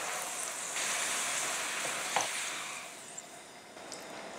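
A tortilla fries in hot oil for red enchiladas, giving a constant, close sizzle with a few small pops and crackles and no talking.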